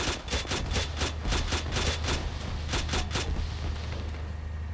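A grenade exploding against a building in a video game, heard as a rapid series of loud, evenly spaced booming bursts that ring out over roughly three seconds before dying into a rumbling tail.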